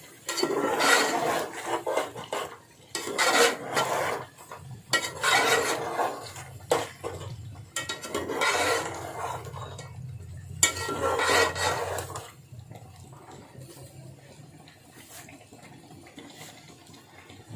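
A spoon scrapes and stirs chicken and bottle gourd in a pot in repeated bouts with short pauses, close up, then the stirring fades to quieter shuffling.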